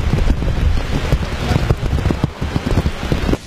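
Heavy rain pours during Cyclone Matthew in Port-au-Prince, Haiti, a dense continuous roar of drops striking surfaces with wind, loud and close with sharp spattering impacts throughout.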